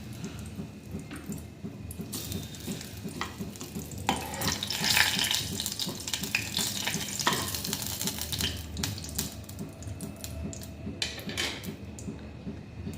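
Bay leaf sizzles in a small amount of hot oil in a pan, a steady close crackle with faint stirring and utensil clinks, no talking.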